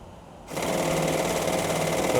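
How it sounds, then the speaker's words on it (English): An aircraft stick shaker stall warning rattles during flight training for an approach to stall. It is a steady, loud mechanical buzzing that starts abruptly and continues without a break. "I'm going to have you take it just to intermittent stick shaker."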